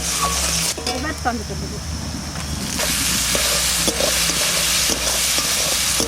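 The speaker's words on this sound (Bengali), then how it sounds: "আর দেবো পেঁয়াজ একটু লবণ দিয়ে দেবো তাড়াতাড়ি পেঁয়াজটা লবণ নরম হয়ে যাবে" Chopped onion and salt frying in a pan with green chillies, a steady close sizzle with spatula stirring and occasional clinks throughout, under a low steady background hum.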